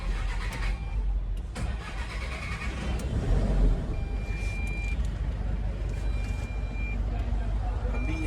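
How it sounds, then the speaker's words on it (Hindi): A 2025 Force Urbania van engine cranks and then settles into a steady mid-pitched idle, loud and close throughout with no speech over it. "Then crank the engine."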